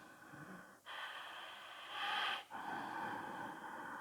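Loud, hissing Ujjayi breaths drawn through a constricted throat in Ashtanga yoga, one long breath, a brief pause, then a stronger, rougher exhale that swells and fades, followed by another steady breath.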